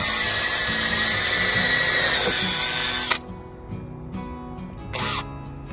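A power drill whirs loudly and steadily for about three seconds, then stops, followed by a couple of short quieter bursts.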